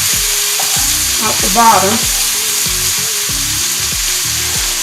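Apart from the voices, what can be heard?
stirring apples, bacon and cabbage frying in a pan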